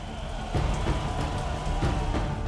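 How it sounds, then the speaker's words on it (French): Torrential rain pours down on a stadium, a dense, steady roar of heavy downpour with broadband hiss, loud and continuous across the short stretch. "Une pluie diluvienne s'abat sur le stade."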